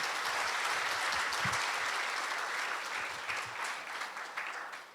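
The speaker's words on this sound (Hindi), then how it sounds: "हम आपका जोरदार तालियों से स्वागत करते हैं।" A crowd at a saints' gathering in an Osho ashram applauds steadily, a dense wash of clapping that holds throughout, fading slightly toward the end.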